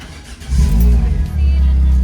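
A Peugeot 106 GTI engine, fitted with a new starter, cranks briefly and catches, then settles into a loud, steady idle with a slight dip in revs, no voices over it.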